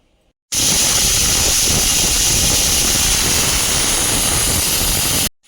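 A pressure cooker whistles while mutton cooks for a Nizami ghosh curry, a loud, steady steam hiss that bursts on abruptly, holds for about five seconds, then cuts off sharply.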